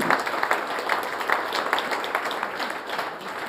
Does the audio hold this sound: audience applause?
yes